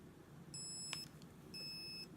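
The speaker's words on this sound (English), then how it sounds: "the way the camera works is you hold it till it beeps" Two steady high electronic beeps from a Polaroid Cube camera held to power on, each lasting about half a second with a pause between, plus a brief click in the gap, fairly close and clear.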